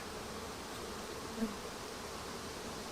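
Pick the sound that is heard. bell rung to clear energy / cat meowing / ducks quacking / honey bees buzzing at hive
honey bees buzzing at hive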